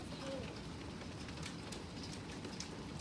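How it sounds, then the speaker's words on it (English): Hail falls outdoors in the Piedmont Triad, a dense, continuous patter of small ice pellets hitting surfaces, steady and fairly faint throughout. "No, this is hail, and whoa."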